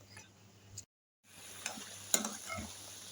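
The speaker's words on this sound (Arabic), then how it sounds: "واسيب بقى الطماطم تتسبك" Tomatoes simmering into a sauce in a pan while making eggplant moussaka, a soft continuous sizzle with a few faint stirring scrapes, briefly cut to silence partway through.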